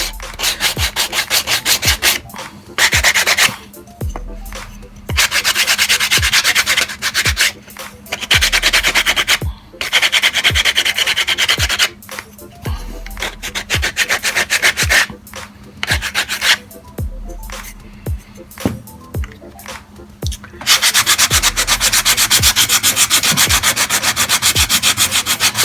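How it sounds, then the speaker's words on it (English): Sandpaper rubbing on a wooden shelf for a Dollar Tree candle sconce, heard as steady rasping strokes repeating in bursts with short pauses between, close and fairly loud. "I really like this sandpaper a lot better"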